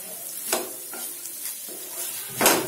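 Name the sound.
tinda filling cooking in masala in a pan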